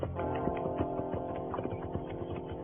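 Horses' hooves clip-clop at a steady walking pace while riders travel on horseback, a rhythmic, moderately close patter with no talk.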